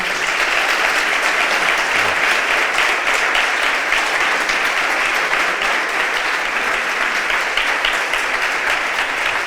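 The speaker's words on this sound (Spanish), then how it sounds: "vamos a darle un aplauso más que merecido" Loud, sustained applause from an audience after a panel discussion on digital money and politics, a thick, even roar of many hands clapping without pause.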